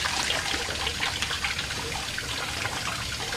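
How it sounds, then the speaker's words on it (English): Fluorescent tracer dye poured into the liquid of a puking skeleton Halloween display, a steady close trickling and splashing stream that runs unbroken from start to finish. "I'll turn the light off as soon as we see how much you're pouring in there."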